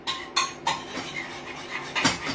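Utensils clink and scrape against a bowl or pan while a moringa-powder-seasoned mixture is stirred, several distinct metallic taps in an irregular rhythm, close and moderately loud with no voices.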